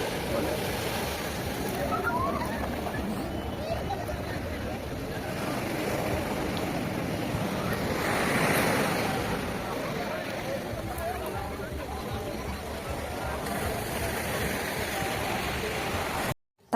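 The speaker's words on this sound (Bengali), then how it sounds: "এই ঢেউটা বিশাল বড় আছে" Big sea waves break on the beach at Digha in a constant loud roar, with one heavier surge swelling midway through and faint voices mixed into the wash.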